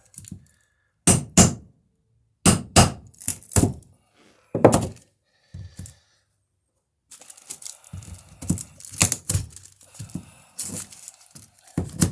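Sharp hard knocks in irregular bursts, some spaced apart and others rapid and clustered, close and fairly loud, like hammer blows on a hard surface, during wooden dory boat building.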